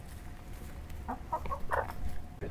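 Chickens clucking softly and close by at a desert farm stay near Joshua Tree, a short cluster of quiet clucks over low background hiss.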